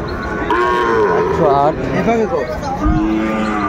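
Cattle low and moo at a busy livestock market where a pair of bulls is being bargained over, with several drawn-out calls rising over steady crowd chatter and people talking nearby.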